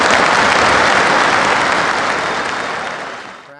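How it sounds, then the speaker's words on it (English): A simulated stadium crowd in the football game Dice United roars and claps in a dense, loud wall of noise that fades slightly toward the end. "The crowd is out of control in the background."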